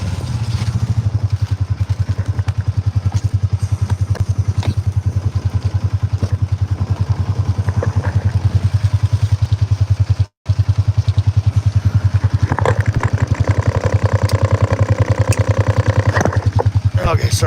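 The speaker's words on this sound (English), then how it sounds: "This diesel motor, there's no exhaust on it, you know, or no muffler." A farm diesel engine runs with no exhaust or muffler, a loud, harsh, rapid chugging rumble close by that keeps going without letup apart from one brief dropout.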